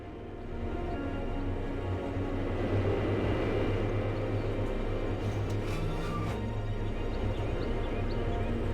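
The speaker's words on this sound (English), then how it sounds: "Here comes another Hades bomber squad." Hades bomber squad aircraft in the strategy game Ashes of the Singularity approach as a steady, loud low drone of engines that holds throughout, with faint game effects layered on top.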